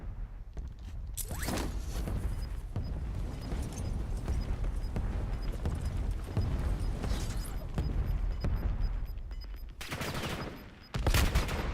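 Intense gunfire erupts in the Call of Duty Warzone battle at Verdansk, dense bursts of automatic rifle shots and clattering mechanisms rattling continuously, loud and close, with sharp cracks and short pauses between volleys.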